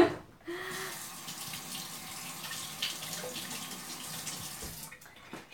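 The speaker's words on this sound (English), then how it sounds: "I've got mayonnaise on my finger, so I'm going to wash this off real quick." A kitchen faucet runs steadily while hands are washed, a close, even hiss of water that starts abruptly and cuts off near the end, with no talking.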